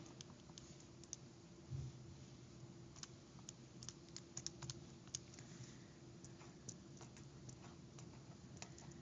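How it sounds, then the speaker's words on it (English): Faint, sparse key clicks on a calculator come in irregular bursts over a steady low hum in a quiet room, with no talking. "Typing in my calculator."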